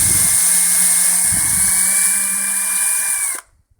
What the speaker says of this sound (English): get a good pre-drill